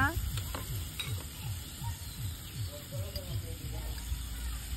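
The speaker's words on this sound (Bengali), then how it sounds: "সবকিছু একটু ভালোভাবে ভেজে নেই" Meat sizzles steadily in a pan with chili, turmeric and coriander powder, a dense close frying hiss with rhythmic stirring scrapes beneath it and no talk.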